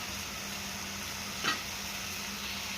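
Tomatoes frying in a pan with onion, a low steady sizzle with one brief scrape or tap of a utensil midway, quiet and without talking.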